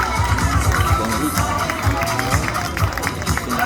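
Audience at a vintage pin-up contest claps for a candidate, a lively patter of many hands mixed with crowd murmur, with some sharper claps standing out nearby.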